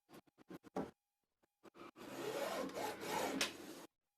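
Scissors cutting through fabric for a kimono dress: several short snips, then a longer continuous rasping cut that runs for about two seconds, close and fairly quiet.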